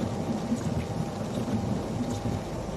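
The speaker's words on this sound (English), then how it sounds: "this is freezing rain" Freezing rain falls steadily outdoors during a Mississippi ice storm, a constant dense hiss and patter of droplets on surfaces, even and unbroken, with no voices.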